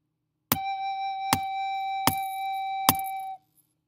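A recorder plays four separate, evenly spaced notes at the same pitch, each sustained and tongued clearly, alone and close up, where a single whole note might be expected.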